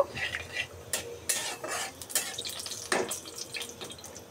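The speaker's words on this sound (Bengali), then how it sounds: "আমি গরম তেলের মধ্যে জিরাটা দিয়ে দিই। একটু নাড়াচাড়া করে নিব।" Metal utensil scraping and stirring cumin seeds in hot oil in a pan, with brief clinks and a soft sizzling hiss underneath; no voices.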